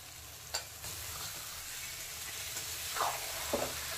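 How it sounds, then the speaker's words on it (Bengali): Marinated chicken goes into a pan of frying onions for a Bengali pressure-cooker chicken dish, giving a steady close sizzle with a few scraping stirs of a spoon. "এবার দিয়ে দেব ম্যারিনেট করে রাখা চিকেনটা।"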